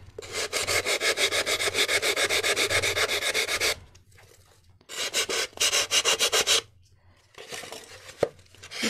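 Rhythmic back-and-forth sanding of a hard, high-density styrofoam sphere for a Halloween pumpkin craft, in steady rapid bursts with short pauses between, close and fairly loud, no talking.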